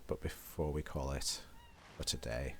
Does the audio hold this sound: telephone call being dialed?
no